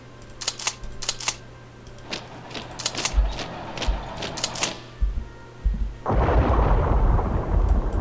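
Naval shore bombardment in the strategy game Hearts of Iron III: a run of heavy booming thuds and crackling impacts, repeated every second or so, ending in a loud sustained rumbling barrage.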